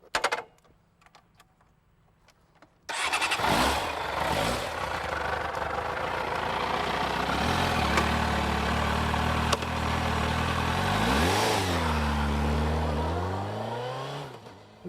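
A Suzuki RF600R sport motorcycle on a ride, its engine droning loud and steady after a brief quiet start, then revving up and down through rising and falling pitch sweeps, with wind noise and no talking.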